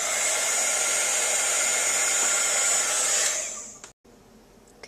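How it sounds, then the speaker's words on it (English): A heat tool blows hot air for card embossing, a loud steady whoosh lasting about three seconds before it cuts off abruptly, followed by quiet. "And we'll use our heat tool again."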